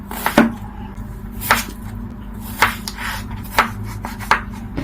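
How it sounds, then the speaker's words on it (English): A knife chops potatoes into tiny pieces on a board, giving a series of distinct thuds about once a second, close and clear with no one talking. "I'm going to chop them into tiny pieces so it doesn't take long to cook"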